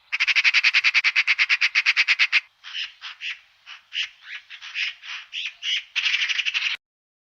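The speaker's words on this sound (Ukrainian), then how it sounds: "Співає сорока." A magpie gives a harsh, rapid chattering rattle, then a run of raspy squawking notes, ending with another fast chatter; loud, close and without any voices.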